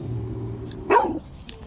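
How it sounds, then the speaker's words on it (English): A one-year-old male pit bull terrier gives a single short bark partway through, close and fairly loud, with a low steady hum underneath before and after. "What are you barking at?"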